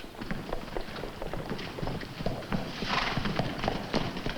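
Hooves clip-clop steadily in a busy outdoor scene, with a horse snorting or whinnying faintly amid background noise.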